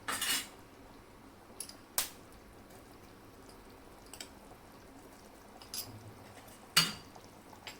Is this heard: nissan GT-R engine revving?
no